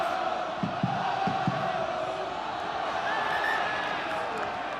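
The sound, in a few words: rugby crowd roaring on home team Connacht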